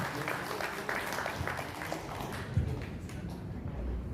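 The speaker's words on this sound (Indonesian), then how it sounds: "Tepuk tangan untuk yang bapak-bapak bot ini." A crowd claps steadily for about four seconds at a birthday gathering, a dense patter of applause that stays fairly even and fades slightly toward the end.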